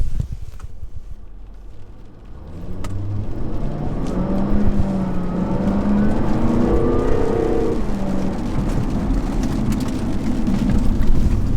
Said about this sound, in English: Okay, that was standard mode.